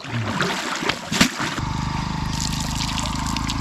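Water splashes irregularly as someone bathes in a canal, followed by a steady, close rush of moving water with a low rumble beneath it.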